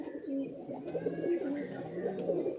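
Long-flying pigeons kept at a home loft coo in a continuous, close, warbling murmur. Several soft throaty phrases overlap, with a faint background hum.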